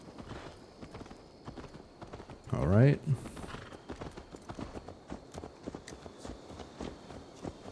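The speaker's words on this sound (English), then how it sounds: "Let's return the horse" A horse's hooves clip-clop in a steady walking rhythm in the video game Assassin's Creed Valhalla, joined briefly by a loud whinny-like burst, while a voice speaks briefly.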